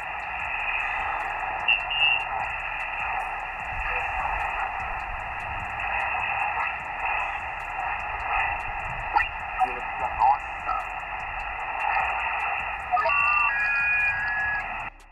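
Radio receiver tuned to the 17 meter band beside a Victron SmartSolar MPPT charge controller: steady hiss and buzzing static with faint ticking interference throughout, under a voice.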